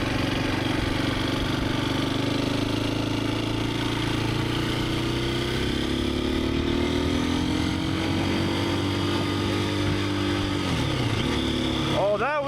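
A Husqvarna FE350S motorcycle engine drones steadily at close range while riding, its pitch sliding down and back up through a gear shift, with the rider's voice and wind noise over it.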